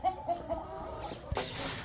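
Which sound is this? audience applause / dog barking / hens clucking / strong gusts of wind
hens clucking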